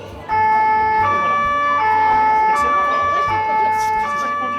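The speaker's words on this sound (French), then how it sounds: "si tu veux mettre la sirène, tu peux appuyer sur ce bouton" An ambulance siren, switched on by pressing a button, wails loudly and close by in an alternating two-tone pattern that repeats steadily, with no other sound over it.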